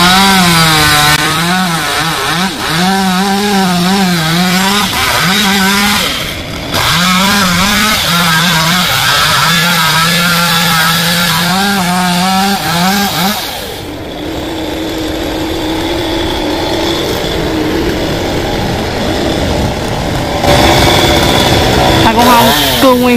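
A small chainsaw cuts branches of an old Sộp tree, the engine loud and close, revving and bogging as it bites into wood, then dropping to a rougher idle-like drone before revving again.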